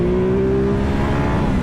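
Ducati Multistrada 950 motorcycle accelerating, a loud, close, continuous engine drone with a steady tone through the whole short burst, no voices.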